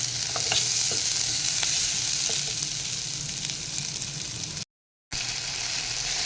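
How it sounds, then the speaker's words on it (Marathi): Tomato sautéing in a pan until soft, with a steady close sizzle, a few soft stirring scrapes, and a brief dropout near the end. "टॉमॅटोसुद्धा आपण छान परतून घेऊया सॉफ्ट होईपर्यंत आपल्याला तो परतून घ्यायचा आहे"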